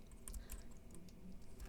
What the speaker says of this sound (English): And I'm using my keyboard.